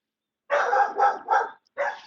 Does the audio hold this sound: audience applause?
no